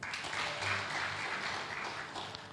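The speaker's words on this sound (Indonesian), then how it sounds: "Tepuk tangan buat Tuhan." A church congregation at a Sunday service applauds, a dense wash of clapping held steady for a couple of seconds, moderately loud and filling the room.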